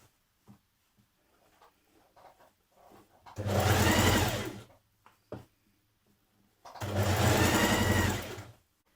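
A sewing machine stitches a dress hem in two loud, steady bursts of about a second and a half each, separated by quieter handling sounds and light clicks.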